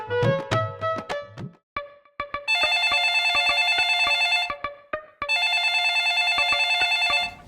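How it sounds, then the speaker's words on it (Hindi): An old-style telephone bell rings loudly in two long trilling bursts, preceded by a few sharp clicks and short chimes, in a cartoon scene. "अबे किसका फोन आ गया?"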